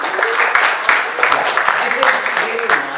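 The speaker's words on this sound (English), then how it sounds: "Big round of applause for them." Applause from an audience at a university founder's day celebration for honoured students, continuous clapping at moderate loudness with a voice speaking over it.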